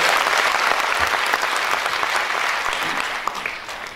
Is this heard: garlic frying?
no